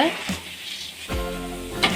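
Soaked field beans frying in oil in a pan, a steady close sizzle and crackle with a few stirring clanks, under a little talk.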